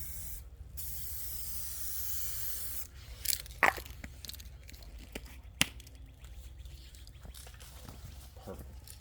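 A spray can lays a coat onto a Honda Accord headlight during a restoration: a steady close hiss for about three seconds, then the spray stops and scattered taps and handling sounds follow.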